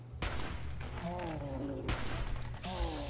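Gunfire in Fallout 4 sounds as a few sharp, fairly quiet shots spaced across the moment, with a person talking in between and over them.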